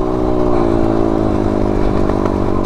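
A video game motorcycle engine drones steadily and loudly throughout, its pitch shifting as it revs, a continuous roar with no voices.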